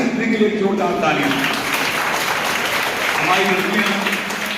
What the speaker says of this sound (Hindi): तो नारी शक्ति के लिए जोरदार तालियां।